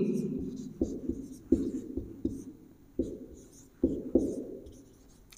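Marker or chalk writing a formula on a board, heard as a series of close, distinct strokes and taps in an uneven rhythm, with no talking over them.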